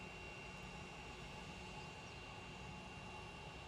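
A jet airliner departing Manchester Airport banks around the field, a faint, steady distant engine roar that holds evenly without change.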